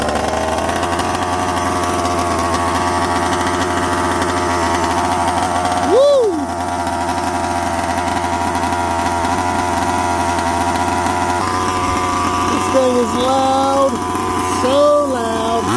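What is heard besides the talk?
45cc chainsaw engine starting and running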